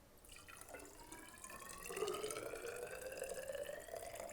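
Water running into a container up to a marked line for a distilling density check, a faint filling trickle whose pitch rises steadily as the vessel fills, with no voices.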